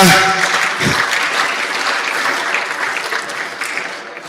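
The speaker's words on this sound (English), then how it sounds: "Please, another round of applause for Father Balangida" Conference audience applauding steadily, a dense wash of clapping that holds strong throughout and fades slightly at the end, with no talking over it.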